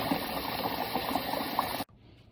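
Water is poured into a container over rice for dosa and idly batter, a continuous splashing, bubbling gush up close that stops abruptly near the end, leaving near silence and no speech.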